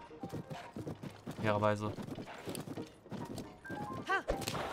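Horse hooves clip-clop at a steady pace in the video game Zelda: Tears of the Kingdom, sitting under nearly continuous talking.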